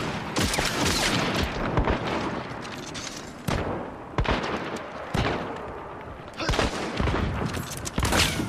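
Gunfire in the video game Hunt: Showdown: repeated loud, sharp shots cracking at irregular intervals, about seven or eight over a dense, noisy background of game sound, with voices talking throughout.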